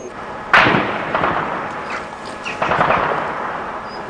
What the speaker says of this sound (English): There has been a gun battle going on around this hotel in the parkland all morning.